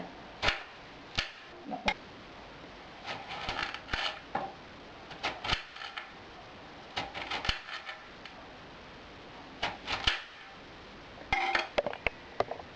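Sharp knife strokes slicing zucchini into 1.5-2 cm pieces knock against a cutting board in irregular bursts, close and crisp, with short pauses between groups of cuts.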